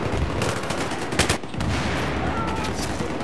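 Sustained automatic gunfire in Battlefield 3 during a team deathmatch on Nebandan Flats, loud and continuous with a few sharper cracks in the middle.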